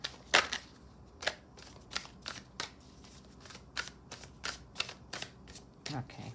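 Tarot cards being shuffled by hand, a series of crisp riffles and snaps in an irregular rhythm, close and fairly quiet.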